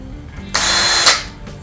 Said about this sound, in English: Have you ever wondered what would happen if you went to mix the paint and your drill was